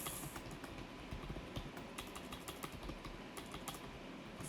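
Steady tapping on a computer keyboard while notes are typed for a coding problem, quick soft keystrokes over a constant noisy background hiss, with no voices.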